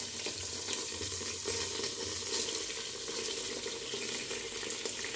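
Soaked, drained rice hits hot oil and ghee in a pan, making a constant crackling sizzle with some stirring. The sound is close and moderately loud, with no talking.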